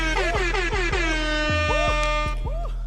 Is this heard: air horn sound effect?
yes